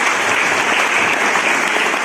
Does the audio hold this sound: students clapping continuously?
yes